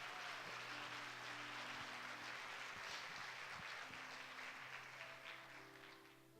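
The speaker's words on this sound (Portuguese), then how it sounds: "Dê um aplauso ao Senhor Jesus." Enthusiastic applause from a large church congregation at a Sunday service, steady and dense, with a sustained musical tone underneath, gradually fading toward the end.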